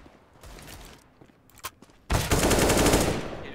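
Counter-Strike: Global Offensive gunfire: a few scattered faint clicks and shots, then a loud, sustained burst of rapid automatic fire for the last second and a half.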